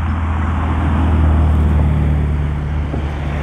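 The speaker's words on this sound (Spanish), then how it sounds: "ahorita aproveché para grabarles ese Ferrari que venía llegando" A Ferrari sports car arrives outside the Pueblo Bonito hotel in Mazatlán, its engine a steady, loud, low rumble mixed with broadband road and wind noise throughout.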